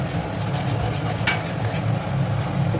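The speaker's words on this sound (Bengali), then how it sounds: "এবার এইভাবে কষতে কষতে যতক্ষণ না তেল ছেড়ে যাচ্ছে আমি এইভাবেই নাড়তে থাকবো" A spoon scrapes and stirs through a thick ground fenugreek and cumin spice paste in a pan while it sizzles and fries steadily in oil, close up.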